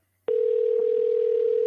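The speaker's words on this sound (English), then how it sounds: "It's ringing." Steady electronic telephone tone on an outgoing call, starting abruptly and holding as a single sustained pitch, close and clear with no voices.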